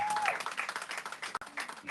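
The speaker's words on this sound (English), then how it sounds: "Can we give her a round of applause?" A short burst of audience applause, many hands clapping at close range, with a brief tone at the start.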